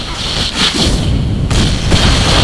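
Rocket explosions in the shooter game Team Fortress 2 boom one after another across a couple of seconds, loud and dense, with a low rumbling thud beneath a hissy blast texture and no clear talk over them.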